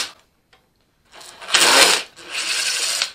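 A power screw gun backing screws out, with two sustained whirring bursts of the driver spinning after a near-silent start, close and fairly loud.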